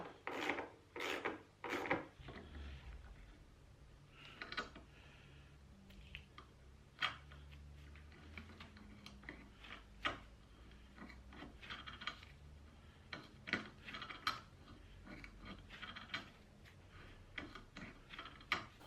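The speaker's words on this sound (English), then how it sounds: "Very quickly the thread through this relatively thin steel is cut." Hand tap cutting a thread into relatively thin steel for a homemade lawn levelling tool, with quiet irregular scraping and ticking metal sounds, a few louder rasps near the start, close and faint.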